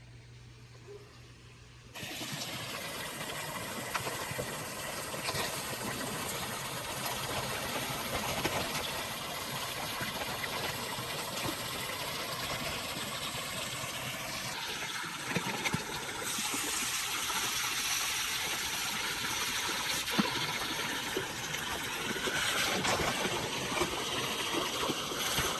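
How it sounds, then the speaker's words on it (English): An above ground pool pump runs steadily, pushing water into the filter with a continuous motor hum and a rushing, trickling flow that stays moderate and constant throughout. "That's where the pump sends it into the filter."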